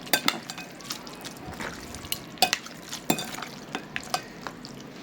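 Instant Indomie noodles stirred in a pan, close clattering spoon clicks and scrapes in irregular bursts over a faint sizzle and wet slippery sounds.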